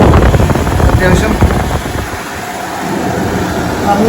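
McCoy Jet air cooler with its fan set to high, giving a steady, loud rush of blown air close by that stays fairly even throughout, easing slightly halfway.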